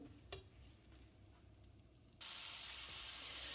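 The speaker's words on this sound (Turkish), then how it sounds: "Bunları soteliyorum tavada." Steady sizzling from chopped apples sautéing in a pan, a soft crackle that suddenly jumps to a louder, brighter hiss partway through, with no voices.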